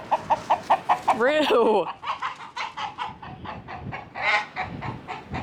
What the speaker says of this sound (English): I'm gonna have to lead that chicken to its home.